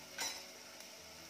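Onion roasting with salt in a pan gives a faint, steady sizzle, with a soft scrape or clink of a utensil near the start and another small tap later.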